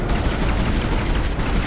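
Weapon fire against a necromorph in Dead Space, a dense continuous roar of shots and rumble filling the short stretch at steady loudness, with no voices.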